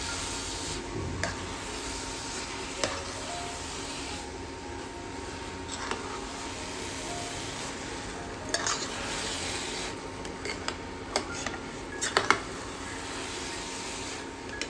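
Carrot halwa being stirred with cardamom-sugar powder, a soft steady scraping and sizzle with scattered clicks of the spoon against the pan, quiet and close, with no talking.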